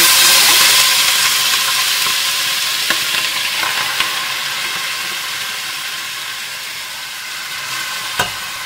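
Rice hits very hot oil in a pan and sizzles loudly with a hissing fry that slowly settles, and a few stirring clicks sound up close with no talking.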